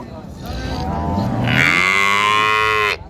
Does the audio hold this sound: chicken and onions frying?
no